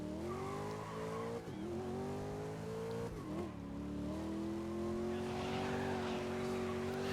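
Race car in the GRID video game with a steady, loud engine drone that dips and rises through gear changes, while tires squeal and slide throughout.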